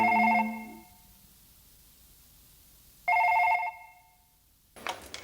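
A telephone bell rings in two loud electronic bursts about three seconds apart, then falls silent before a brief scuffing noise.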